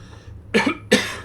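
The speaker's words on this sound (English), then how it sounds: "oh, excuse me, I got a bit of a cough here." Two sharp, close coughs in quick succession, loud and raspy, over a quiet background hum.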